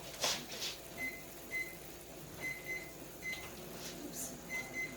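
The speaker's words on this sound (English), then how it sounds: "I'm going to start my 1 minute over here on the microwave" A microwave oven runs with a low steady hum while a short repeated tone sounds several times, and faint clatter comes and goes nearby.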